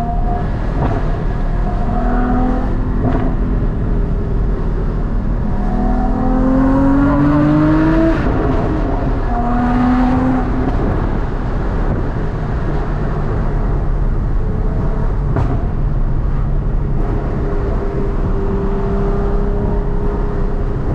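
A Porsche Cayman GT4 with Dundon long tube headers drives on cold tires, its engine rising and falling through the gears from inside the cabin, with sharp pops and crackles of backfire on lift-off.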